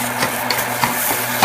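Onion with rice frying and being stirred in a pan for chile poblano rajas, with a steady close sizzle and periodic scraping stir strokes about every half second.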